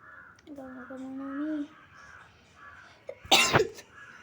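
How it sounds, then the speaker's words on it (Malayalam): A single short cough bursts out near the end, loud and close, after a spell of quiet speech and a faint crow-like call. "ചെറിയൊരു ചുമയുണ്ട്."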